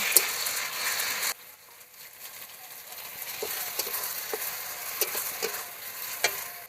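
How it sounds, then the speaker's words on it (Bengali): Chopped tomatoes cooking down in a frying pan, a loud sizzle that drops suddenly to a softer simmering hiss, with scattered spatula clicks and scrapes close by, no voices. "আমি দিয়ে দেবো টমেটো, কুচনো টমেটো। কাঁচা টমেটোগুলো আমি ভালো করে গলিয়ে নেব।"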